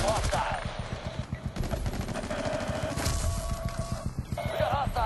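Rapid bursts of automatic gunfire crackle in a fast, dense rhythm during an attack in a video game match, with heavy shots near and continuous, plus brief breaking sounds.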